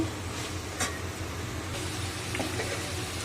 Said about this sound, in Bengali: এখানে পেঁয়াজ কাটাগুলো দিয়ে দিচ্ছি দেখুন পেঁয়াজ কাটাগুলো দিয়ে এরকম নেড়ে চেড়ে নিতে হবে